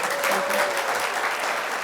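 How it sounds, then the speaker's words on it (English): An audience gives the executive committee of a business event a round of applause, a steady, full wash of many hands clapping throughout, with a faint voice beneath it. "One more round of applause."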